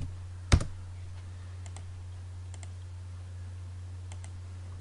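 A computer keyboard typing a command in AutoCAD Mechanical 2010 gives one sharp close keystroke, followed by a few faint scattered clicks over a steady low electrical hum, with no talking.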